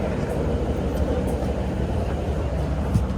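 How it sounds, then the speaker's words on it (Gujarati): A suburban train pulls out of a station on the line toward Deer Park and Footscray, heard from inside as a steady, low, continuous rumble that is moderately loud and has no talk over it. "ટ્રેન નીકળી ગઈ."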